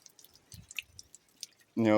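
Liquid from dry mushroom spawn drains and drips out in a few soft, faint, close drops and trickles before a voice starts speaking.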